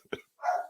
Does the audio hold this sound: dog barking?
yes